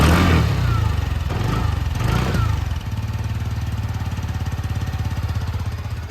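A TVS Jupiter 110 scooter engine revs up close and loud, the throttle blipped a couple of times before it settles into a steady, rapid idle chug.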